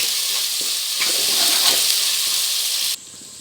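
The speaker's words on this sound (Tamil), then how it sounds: "இதையும் சேர்த்து நல்லா வதக்கலாம்." Chopped tomatoes with spices sauté in a pan as a south Indian biryani base cooks, giving a steady close sizzle with a few spoon-stirring scrapes over about three seconds, then the sound drops away sharply near the end.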